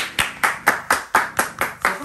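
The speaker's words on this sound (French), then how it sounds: "je voudrais un tonnerre d'applaudissements pour le cadeau." Rhythmic clapping from a small group, about eight steady claps in two seconds, close and fairly loud, greeting a gift being shown off.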